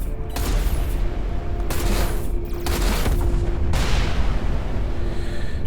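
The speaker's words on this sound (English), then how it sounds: "Explosions." Space-combat explosions in the video game Everspace 2: loud, dense blasts and booming bursts roll one after another with no pause, a continuous barrage.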